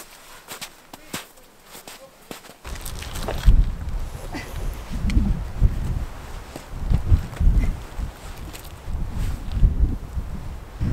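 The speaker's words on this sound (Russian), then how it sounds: "Здесь сильный ветер, но вид красивый." Strong wind buffets the microphone in heavy, uneven gusts on top of a rock pillar near Krasnoyarsk, Russia, after a quieter start with faint rustling and a few taps.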